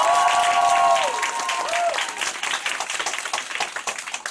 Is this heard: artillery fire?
no